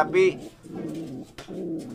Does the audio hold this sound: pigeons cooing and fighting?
yes